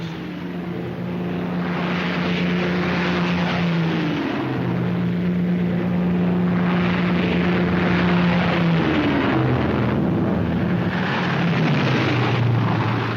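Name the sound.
transport aircraft taking off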